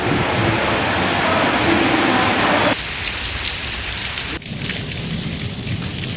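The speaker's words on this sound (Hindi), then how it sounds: "इस्लामाबाद में बूंदाबांदी से मौसम खुशगवार हो गया" Rain with thunder in Islamabad: a dense, continuous roar of rainfall with deep rumbling, loud and steady throughout, with an abrupt shift in texture midway.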